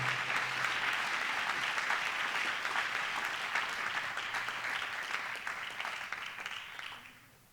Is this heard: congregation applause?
yes